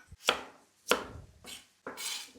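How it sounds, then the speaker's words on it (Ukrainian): Four sharp knife chops through potatoes on a cutting board, spaced unevenly, close and crisp with quiet gaps between strikes. "Картопельку нарізаємо ось так."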